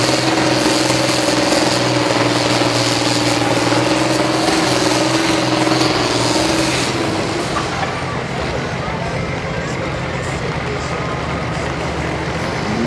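A modified tractor at a county fair tractor pull roars loud and close with a dense, sustained engine blast that eases slightly partway through, with no talking over it.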